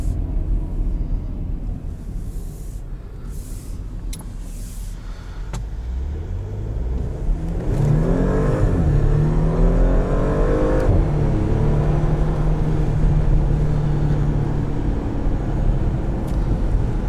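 A 2021 Porsche Macan S drives along with a steady road rumble, then its engine revs up through rising gear sweeps and settles into a louder, sustained drone heard from inside the cabin.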